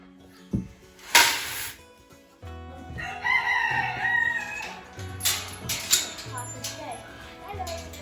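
Chickens on a farm during chores, with a rooster crowing loudly several times over clucking hens, while people talk nearby and a voice is heard.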